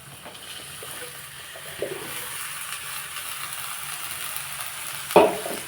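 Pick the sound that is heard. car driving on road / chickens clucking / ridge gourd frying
ridge gourd frying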